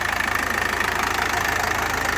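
A KATA KE504 tractor engine runs steadily nearby while working a disc harrow in heavy dust, a continuous rhythmic rumble with a dusty mechanical drone and no voices.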